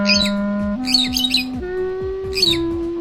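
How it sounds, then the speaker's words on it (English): Several harsh parrot squawks burst out in quick clusters over a steady electronic tone that steps upward in pitch, fairly loud and close. "These parrots aren't playing, they're negotiating world peace."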